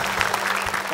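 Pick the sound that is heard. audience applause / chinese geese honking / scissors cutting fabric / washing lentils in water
audience applause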